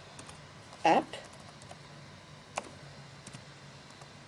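Typing on a Windows PC keyboard: a short burst of keystrokes, then a few scattered, fainter clicks, with someone speaking quietly nearby.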